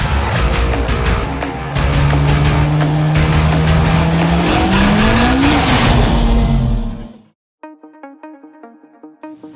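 Student-built UGM Bima Sakti Racing Team race car, loud engine droning and rising in pitch as it accelerates close by for about seven seconds, then cutting off, followed by a short patch of percussive music.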